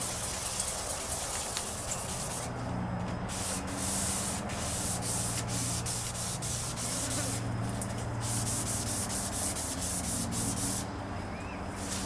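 Steady abrasive scraping of sanding on a Honda Civic EK car body panel, continuous with brief pauses, close and fairly loud, no voices.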